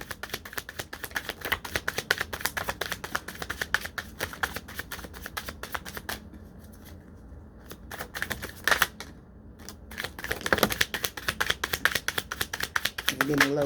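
Playing cards riffled and shuffled repeatedly in rapid crisp bursts, close by, with a brief lull in the middle.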